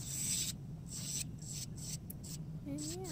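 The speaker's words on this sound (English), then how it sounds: "I'm just going through my general filing routine" Hand nail file rasping over nails during a nail infill, a close, quiet series of short scraping strokes with brief gaps between them, then a faint whine near the end.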